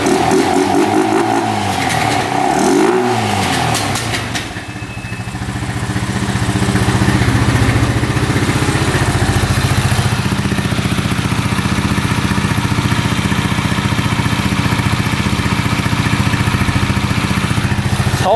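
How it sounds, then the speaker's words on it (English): Honda ATV engine idling with its air filter off, running lean: a loud, close, steady mechanical chug with rough uneven pops early on, then settling into a constant throbbing drone. "It's running a tad lean because the air filter isn't on there. That's why you hear it kind of backfiring there a little"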